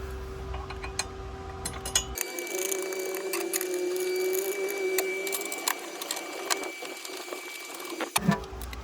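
A ratchet or wrench turns the battery bracket bolts on a BMW G01 X3 with quick, faint mechanical clicks. A steady whirring hum runs underneath, and there is no talking.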